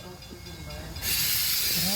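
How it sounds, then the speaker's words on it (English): A train on a heritage village railway halts suddenly, with low rumbling and faint voices at first, then a loud burst of hissing steam and squealing brakes that holds to the end. "The train made an emergency stop."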